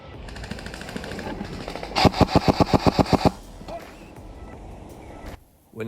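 Airsoft gunfire during an outdoor skirmish game near a bridge: a rapid burst of about a dozen sharp, evenly spaced shots rings out fairly close, preceded and followed by softer background noise and faint movement.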